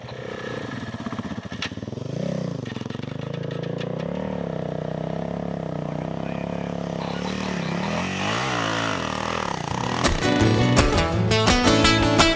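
KTM motorcycles riding turns on a rough Australian outback track, a steady engine drone rising and falling with throttle through the bends, loud and close throughout, with some clatter near the end.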